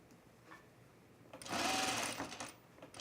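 A sewing machine runs one short burst of long stitches along a blouse seam, close and fairly quiet, rising quickly and then tapering off.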